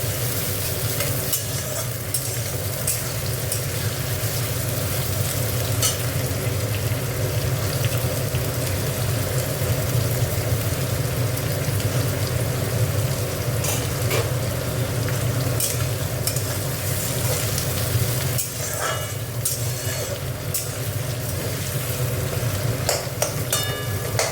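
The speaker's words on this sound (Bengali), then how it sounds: "পেঁয়াজটা ভাজা ভাজা হোক" Onions frying in a pan for a red amaranth greens dish give a dense, loud, continuous sizzle and crackle, like heavy rain, that stays steady throughout.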